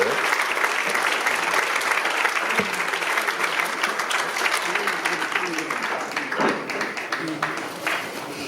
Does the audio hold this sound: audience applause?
yes